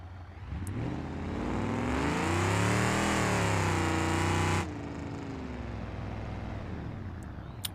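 A 1968 Dodge Charger with no exhaust revs in a BeamNG.drive driving simulation, its engine note rising and swelling in a long loud pull before cutting off sharply, then idling low and rough afterward, no speech.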